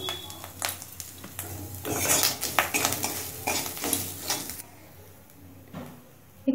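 Ginger cooking in a pan with cumin powder, salt and turmeric stirred in, heard as a soft sizzle under repeated scraping and clinking of a utensil against the pan, which quietens toward the end.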